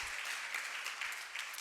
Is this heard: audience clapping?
yes